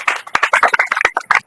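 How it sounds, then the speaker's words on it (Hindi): Children clap in a classroom at school, a burst of uneven, close applause that is loud and brief. "तालियां बजाओ बच्चे के लिए।"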